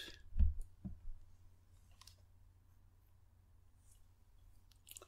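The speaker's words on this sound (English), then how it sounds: "I'm going to click on Check for Updates" A computer mouse gives a couple of sharp clicks close up near the start, then near silence with faint ticks.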